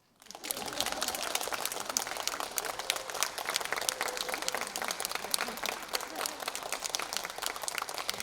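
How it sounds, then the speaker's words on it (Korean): Steady, dense audience applause fills a Korean theatre at a regular stage performance of Manmubang. It swells in quickly and holds a loud, even clatter of many hands throughout, with no voices over it. "박수가 나올 때까지"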